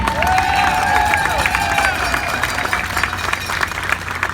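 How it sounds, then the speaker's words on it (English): A rally crowd in San Diego at an event to recall Gavin Newsom applauds and cheers in a steady, dense wash of clapping, with a sustained tone and crowd voices mixed in. "Can I get a round of applause for all of them?"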